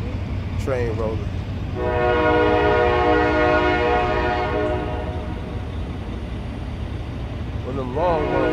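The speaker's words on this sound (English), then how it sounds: "Train rolling." A long train rolling past with a loud sustained horn blast in the middle, preceded and followed by brief whistle-like tones, over a steady rumbling background with some talk.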